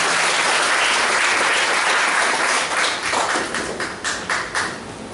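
A church congregation breaks into steady clapping after a Hindi sermon, a dense wash of applause that thins into separate, slower claps toward the end.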